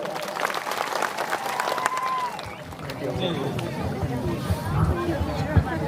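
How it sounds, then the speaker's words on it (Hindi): A crowd at a Tribal Day gathering claps and cheers for an invited speaker, busy applause mixed with shouting and chatter that thins into murmuring voices toward the end. "एक बार जोरदार तालियां बजाते।"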